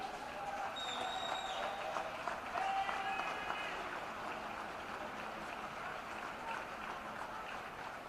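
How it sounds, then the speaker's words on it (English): An audience at the NZSS Swimming Championships applauds, steady moderate clapping in a large pool hall with some voices mixed in. "we would like to give a really big round of applause"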